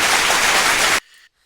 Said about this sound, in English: I was going to give him a big round of applause